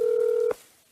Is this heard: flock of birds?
no